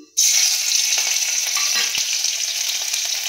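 Bay leaf, chopped green chilli, cardamom and cinnamon drop into hot oil, setting off a sudden sharp sizzle that holds as a steady bright hiss, with a small knock partway through.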